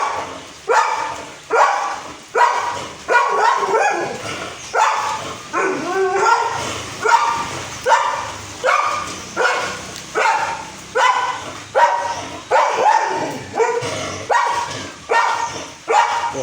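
A dog barks over and over in a steady, loud rhythm of sharp, closely spaced barks, with some whimpering yips mixed in. No talk is heard during the barking.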